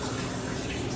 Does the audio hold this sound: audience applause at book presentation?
no